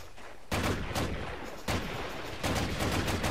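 Gunfire in the World War II shooter Medal of Honor European Assault: three loud bursts of rapid automatic shots in quick succession, close and with no talking.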